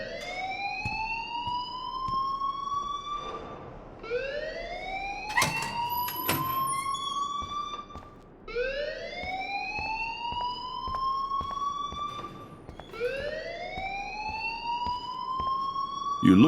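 An alarm blaring in a video game, a loud wailing siren that sweeps upward in repeated rising cycles about every four seconds, with scattered game clicks and thumps between the wails.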